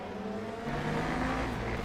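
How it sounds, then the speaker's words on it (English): A race car engine in the sim racing game Le Mans Ultimate drones steadily at high revs, a constant buzzing roar that thickens slightly midway as another car closes in. "Let's hear this car behind."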